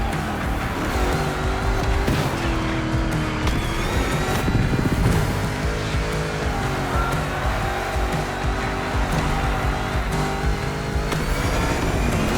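An oversized Mustang GT race car roars through a two-lap race in The Crew Motorfest, its engine droning loud and steady, shifting pitch as it revs, with tire noise and no talking.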